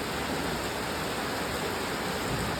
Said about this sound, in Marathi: आला असा धोधो पाऊस एकदम जोरात पाऊस चालू आहे